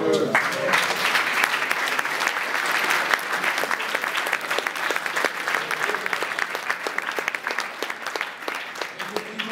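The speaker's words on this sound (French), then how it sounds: "Sous les applaudissements" Audience applause for the best online shop winner at a PrestaShop awards ceremony, loud and close clapping from many hands, sustained throughout with a voice briefly audible near the start.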